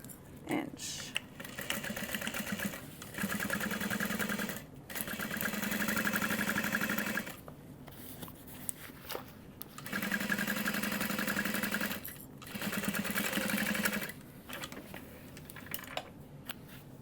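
A sewing machine runs in several bursts of a few seconds each, stitching a 5/8-inch side seam on a tote bag, with pauses and soft handling noises between runs.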